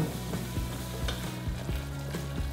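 Flour being stirred into heated oil in a pan for a roux, a steady close sizzle with repeated soft scraping strokes of the spoon, no voices.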